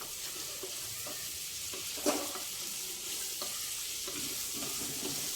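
Chana dal and masala fry in a pan with a steady, hissing sizzle, close and continuous, broken by a few soft stirring scrapes and one louder clink; no one talks.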